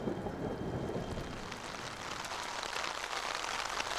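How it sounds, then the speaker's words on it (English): A large thunderstorm breaks over an air show, with heavy rain pouring down on surfaces and low rumbling thunder beneath, a dense steady roar with no voices. "with the appearance of a large thunderstorm"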